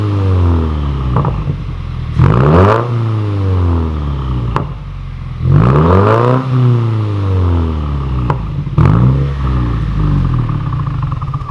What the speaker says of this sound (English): Before we end this video, I do want to get a quick clip of the exhaust.